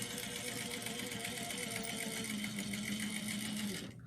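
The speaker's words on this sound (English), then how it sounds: "we're going to top stitch on our understitching" Domestic sewing machine running steadily for about four seconds as it top stitches through layered fabric along the pocket understitching, a continuous close whir with a brief tonal hum near the end before the motor stops.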